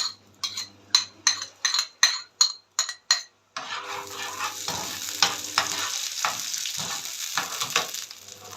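Chopped onion and green bell pepper frying in oil: a run of sharp, rhythmic taps and clinks gives way to a loud, crackling sizzle with occasional stirring knocks.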